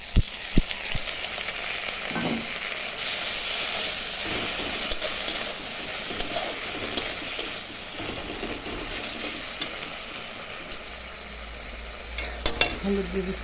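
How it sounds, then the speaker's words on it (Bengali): Onions with green chilli, garlic and ginger paste frying in a pan, giving a continuous close sizzle broken by occasional spoon scrapes and knocks, alone and without speech. "এই দেখো পেঁয়াজগুলো আমার ভাজা ভাজা হয়ে গেল, অনেকটাই নরম হয়ে আসছে।"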